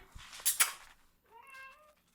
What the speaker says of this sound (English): I've got a noisy kitten.